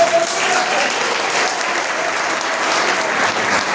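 A church congregation claps in thanks, a loud, full burst of steady applause from many hands that stays even and sustained throughout, with a faint voice in the mix.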